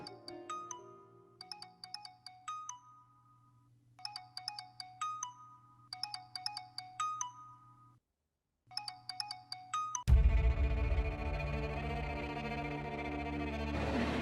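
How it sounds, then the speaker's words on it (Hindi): A mobile phone ringtone in a domestic setting, a repeating electronic melody playing in short phrases over a steady tone, briefly pausing, then giving way to a louder swelling music cue. "किसका फ़ोन है बेटा?"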